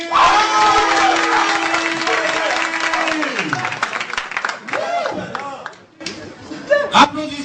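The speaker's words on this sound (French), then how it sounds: "Applaudissements." A quiz game audience cheers and claps after a correct answer, a noisy crowd with a loud sustained shout, laughter and applause, and voices breaking through near the end.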